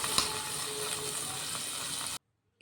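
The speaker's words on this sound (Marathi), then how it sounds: "मिरच्या लसणाच्या पाकड्या आणि कांदा घालून छान परतवून घ्यायचा आहे" Chillies, garlic cloves and onion sautéing in hot oil in a pressure cooker for a radish-leaf and cauliflower-leaf vegetable dish, a steady close sizzle and crackle that runs for about two seconds and then cuts off abruptly.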